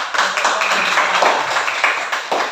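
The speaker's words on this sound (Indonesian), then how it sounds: "tepuk tangan untuk Bulan ya." A classroom claps for a student, with steady, fairly loud applause from a group that lasts a couple of seconds.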